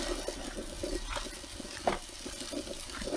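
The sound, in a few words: pork breakfast sausage browning on a Blackstone griddle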